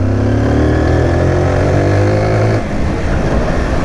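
A Zontes 350 motorcycle engine pulls from 3000 RPM on half throttle, a loud, close drone that rises steadily in pitch, then shifts abruptly to a rougher note near the end.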